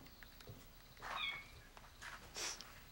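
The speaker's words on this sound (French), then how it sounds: "Des miaulements? Ah ouais, j'ai trouvé des petits chats abandonnés dans le bois." Abandoned kittens found in the woods give two or three short, faint meows, spaced about a second apart, against a quiet background.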